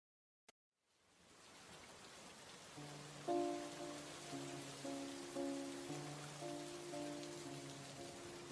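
Rain begins falling after a brief silence and quickly settles into a steady, soft patter, while a gentle musical melody enters and plays over it.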